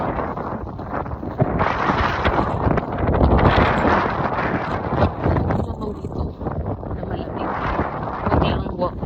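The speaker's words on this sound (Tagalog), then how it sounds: "Medyo mahangin." Strong, cold pre-dawn wind in Greenland buffets the microphone in rough, rushing gusts, loud and continuous, with a voice speaking faintly underneath.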